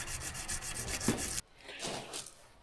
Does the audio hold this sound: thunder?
no